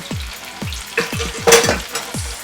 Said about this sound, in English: when frying, there's gonna be a lot of bubbles